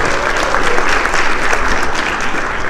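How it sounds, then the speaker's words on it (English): A crowd at a community breakfast claps steadily and loudly throughout, a dense even wash of applause with no break. "So I think really give her a great hand of applause."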